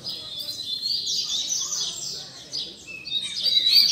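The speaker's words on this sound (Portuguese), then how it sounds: "Outro coleiro aí" Coleiro, a double-collared seedeater, sings high, rapid chirping phrases that come in bursts among other caged songbirds, clear and fairly close against a quiet background with a faint low murmur.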